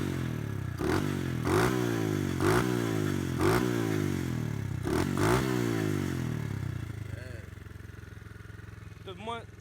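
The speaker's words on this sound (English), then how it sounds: "I just wanted to give a little walk around, start up. Let y'all hear it. It's warming up now." A modded 125cc dirt bike engine starts and warms up, close and loud, with a run of sharp revving bursts over a buzzing two-stroke idle that then settles into a steadier idle.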